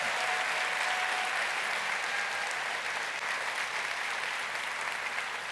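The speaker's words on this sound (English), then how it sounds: "Please join me in giving a round of applause" A crowd at a presidential candidate forum on LGBTQ issues gives a sustained round of applause. The dense, even clapping fills the whole stretch at a steady level, without pause or speech.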